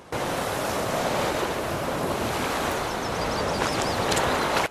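Ocean waves from the video game The Witcher 3 wash in as a steady, broad surf roar with wind-like hiss and faint splashes, without speech.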